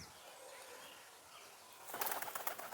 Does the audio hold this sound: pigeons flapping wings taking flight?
yes